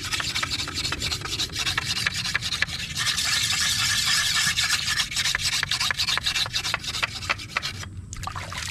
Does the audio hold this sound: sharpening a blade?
yes